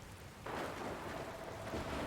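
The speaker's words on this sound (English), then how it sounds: "Where did this rain come from?" Soft, steady rain hiss in the video game Dragon Quest Builders 2 swells in after a quiet start and continues evenly at low level, with no voices.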